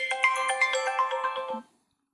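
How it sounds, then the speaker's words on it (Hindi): An incoming call's phone ringtone plays alone, a steady repeating electronic melody lasting under two seconds before cutting off abruptly into silence. "सॉरी, एक फ़ोन कॉल बीच में आ गया था"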